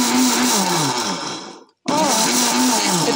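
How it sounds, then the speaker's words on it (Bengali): A powerful electric blender runs with a loud whirring motor, switches off into a brief silence, then restarts at full speed, its pitch wavering as the blades spin. "এটা একটা পাওয়ারফুল ব্লেন্ডার"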